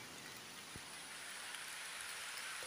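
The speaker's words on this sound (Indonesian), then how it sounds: "Malah hujannya baru datang." Steady rain falls on a small ditch during an afternoon of eel fishing, a soft continuous patter with a faint drop or two. It is fairly quiet and even throughout, and no one speaks.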